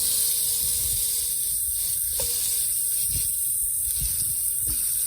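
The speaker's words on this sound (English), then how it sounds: "we're just gonna start dropping these burgers on" Burgers going onto a hot griddle set to 375 for homemade Big Macs, a loud steady grease sizzle and hiss punctuated by a few soft thuds as patties land, close up and without talking.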